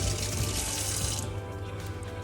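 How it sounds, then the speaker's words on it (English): Cold water runs from a kitchen tap as scallions are rinsed beneath it, a steady close splashing hiss that softens partway through as the flow shifts. "I'm gonna wash it off with some cold water first."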